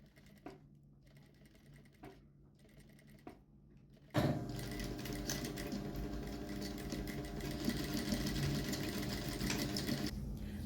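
Sewing machine stitching the lower part of a shapewear girdle, a few short isolated needle bursts followed by a long continuous fast stitching run, close and clear.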